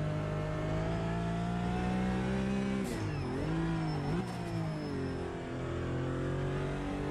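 A Porsche Cayman GT4 in the racing game Automobilista 2 holds a steady, smooth engine drone, then its revs dip and climb twice in quick succession before settling back into a constant tone.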